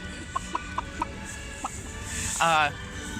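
Hens clucking in short, evenly spaced bursts, then a louder, drawn-out squawk near the end, heard close over a steady background murmur.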